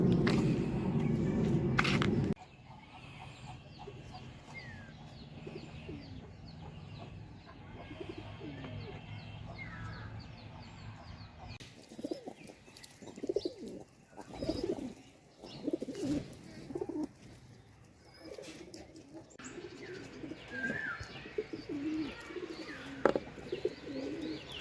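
Pigeons, a jari pigeon among them, coo in a cage kept for a sick bird. The soft, throaty coos come close by in irregular bursts, with light rustling and shuffling around them.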